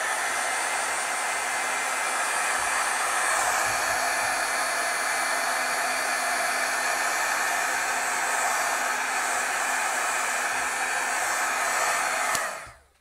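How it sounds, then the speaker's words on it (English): A heat tool runs steadily for about twelve seconds, drying and setting stamped ink on paper, with a loud continuous hot-air roar that cuts off abruptly at the end and no talk over it. "I'll heat set it for a couple seconds"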